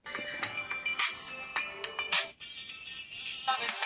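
Ringtone melody playing from the back speaker of a BLU R1 HD budget phone, a bright rhythmic sequence of synthetic tones, loud and close, with a short pause before the tune resumes.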